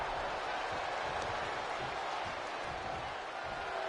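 A wrestling arena crowd in the WWE 2K25 video game fills the space with a steady, diffuse roar of cheering and scattered clapping, moderately loud throughout, with commentary voices faintly underneath.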